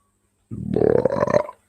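A single long, loud burp rumbles out close to the microphone after a moment of silence, lasting about a second with a gurgling, croaky texture before cutting off.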